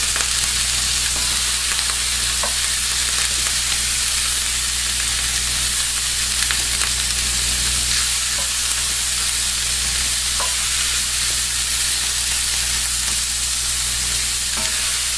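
Steady, loud sizzle of vegetables charring and frying in an uncoated aluminum pan, a constant hiss with occasional small pops and scrapes throughout, no voices.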